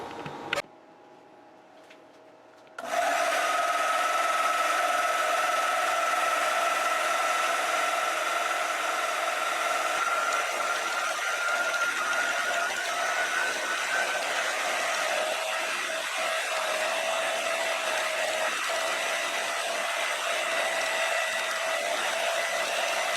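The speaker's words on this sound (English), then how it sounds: "gonna make a couple of cuts with the bandsaw" A bandsaw cuts metal stock for an open column engine bearing block, starting abruptly after a near-silent moment and then running as a loud, steady whir with a faint tonal whine throughout.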